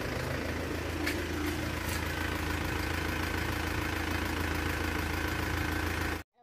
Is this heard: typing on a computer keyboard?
no